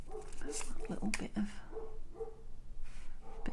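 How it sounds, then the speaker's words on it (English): Several neighbourhood dogs bark and yip in the distance, with short scattered barks and whimpers over steady background noise. "setting the neighbourhood dogs off now. They're all having a go."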